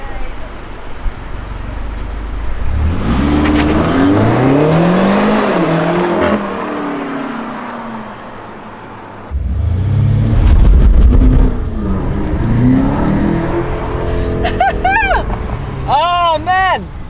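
A BMW M8 First Edition launches hard with its engine roaring and tires spinning, revs climbing through gears, then a second loud surge of acceleration, while excited voices talk over it.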